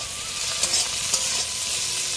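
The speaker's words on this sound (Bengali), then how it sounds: "মাছটা আলু ভাজার মধ্যে দিই" Potatoes and small mola fish fry together in a pan, giving a loud, dense, close sizzle with faint stirring scrapes and no talking.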